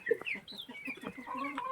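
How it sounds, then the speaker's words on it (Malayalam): Several chickens cluck softly near a village home, a run of short, irregular calls close by with no talk over them. "അതിൻ്റെ കൂടെ നമ്മളെ കോഴിക്കളും കുറേ വന്നിട്ടുണ്ട്"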